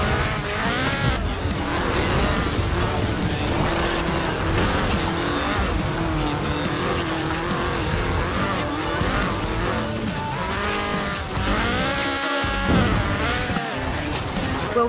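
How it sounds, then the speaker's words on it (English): A Ford RS 1800 rally car with a fuel-injected 1790cc Cosworth BDE engine races in Forza Horizon 4, its engine roaring steadily up and down through gear changes while tires squeal and skid, loud and close throughout. "This was a car designed explicitly for rallying, with a powerful fuel-injected 1790cc Cosworth BDE engine."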